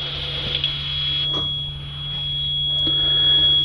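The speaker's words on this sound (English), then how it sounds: "I'm just going to go ahead and turn the ignition key on, so you'll get a little bit of a beep" A steady, high-pitched electronic warning tone from an RV as the ignition key is turned on rings continuously over a low engine-like hum.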